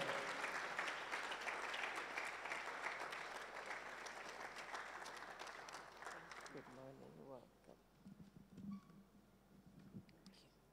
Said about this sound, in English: Ladies and gentlemen, a round of applause for Mrs.